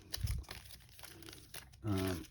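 Doomlings game cards are shuffled by hand, producing crisp papery riffles and crinkling bursts at the start and end with softer rustling in between, close up and fairly quiet.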